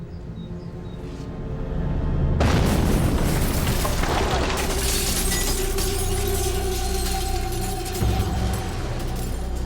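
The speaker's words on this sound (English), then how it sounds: "The explosion killed security guard Robert Sanderson instantly." A bomb blast in a TV crime reenactment, killing a security guard: a loud, sustained roar and crash with shattering debris bursts in after a couple of seconds and rumbles on, with a voice speaking over it.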